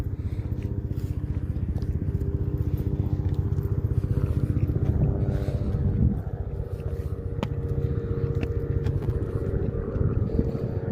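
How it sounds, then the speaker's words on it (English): A low, pulsing thump of helicopter rotor blades beats steadily throughout as it flies overhead near McGee Bridge, West Point, Georgia, loud and continuous, with faint background sounds. "There go a helicopter."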